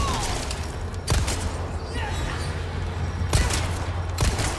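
A few sharp gunshots fired at an enemy in the survival horror game Resident Evil 4, heard as three or four separate loud cracks spread across a dense, tense game soundscape.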